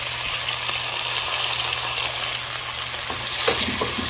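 Chopped tomatoes fry in hot oil with onion and garlic for chicken afritada, a steady close sizzle broken by a few soft stirring scrapes near the end.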